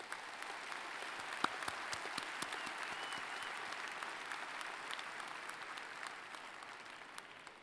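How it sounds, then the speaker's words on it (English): Sustained applause from a large audience at an undergraduate fall commencement ceremony, dense steady clapping throughout with a few sharper individual claps. "I think that deserves a round of applause."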